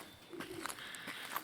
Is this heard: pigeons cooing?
yes